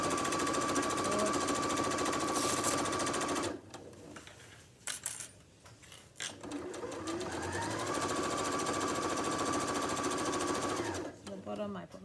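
A sewing machine runs fast and steadily while stitching an apron, stops for a couple of seconds amid small handling noises, then hums back into a long continuous run before halting again, close by.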